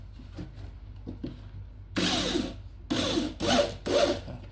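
Screws being tightened during assembly of a medium-size office desk, heard as several short bursts of rubbing, whirring tool noise in quick succession, close and fairly loud, with quieter handling sounds before them.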